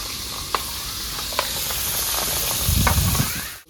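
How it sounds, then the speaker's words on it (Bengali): Pabda fish frying in hot mustard oil, giving a steady close hiss with a few sharp pops, and a louder burst of bubbling spatter near the end before it cuts off. "এবার দিয়ে দেবো সরষের তেল মাছ ভাজার জন্য। গরম হয়ে গেছে, এবার মাছটা দিয়ে দেবো।"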